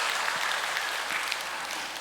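Audience applause welcoming attendees at a Family Federation peace blessing ceremony, steady dense clapping that carries evenly through the moment without any voices over it.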